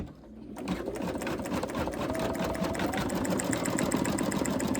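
Embroidery machine stitching a design onto a lunch tote bag, a steady fast mechanical whirring and clatter starting after a brief quiet moment and running continuously, close and fairly loud.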